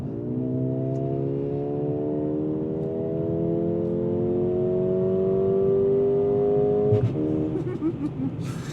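A 2024 Mercedes-AMG CLA35 engine revs up smoothly through a gear, pitch climbing steadily, then the exhaust pops and burbles on overrun at the upshift.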